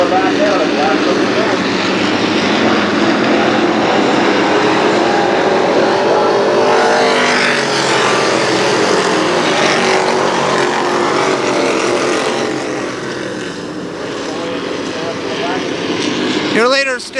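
Pro 4 midget race cars roar around the Kil Kare Speedway oval, their engines loud and continuous with sweeping pitch shifts as cars pass close by.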